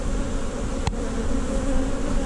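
Honey bees from an opened hive buzz in a dense, continuous drone, close and loud. A brief click sounds partway through, and no one speaks.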